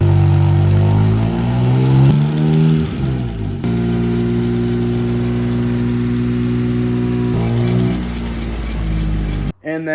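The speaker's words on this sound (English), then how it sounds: "we're gonna start the car up while it's on the lift and see what's wobbling" BMW M3 Competition engine running while the car sits on a lift, a loud close drone with stepped rev changes rising and falling, holding a steady tone mid-clip before cutting off abruptly near the end.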